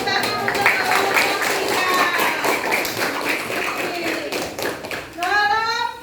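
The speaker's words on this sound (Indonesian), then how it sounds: "Beri tepuk tangan untuk kelompok" A classroom audience claps for a presenting student group, a dense, steady patter of hands with children's voices chattering over it that trails off near the end.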